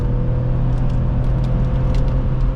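The 3.0-litre inline-six of a 2006 BMW X3 3.0i hums at a steady low drone inside the cabin as the car accelerates, a smooth, continuous engine rumble with faint road noise and no talking.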